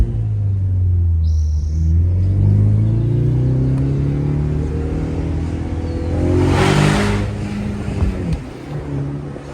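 A 2024 Ford Mustang EcoBoost Premium accelerates hard, its engine note rising in a loud sweeping drone over several seconds, with a brief hiss burst partway through and the pitch dropping near the end.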